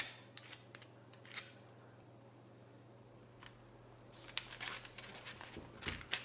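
Old garden scissors, ten or more years old and freshly sharpened, snip through paper in a few sparse crisp cuts at first, then a quicker cluster of close snips toward the end over a low steady hum.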